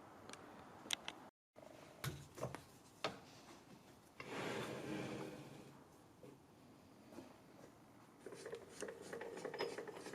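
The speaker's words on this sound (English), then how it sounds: "we'll get the emery cloth on this, and hopefully that will be enough just to get this down to the perfect size" Emery cloth rubbed against a machined engine part spinning on a lathe to bring it down to size, heard as close, uneven rasping strokes that swell into a steadier scrub midway, with no talk.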